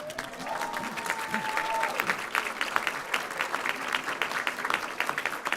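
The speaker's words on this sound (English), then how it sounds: "graduates, please turn around and give your support system a round of applause" An audience at a MEDEX Seattle graduation ceremony bursts into sustained, dense applause for the graduates' families and friends, building slightly and continuing evenly throughout, with a faint voice at the start.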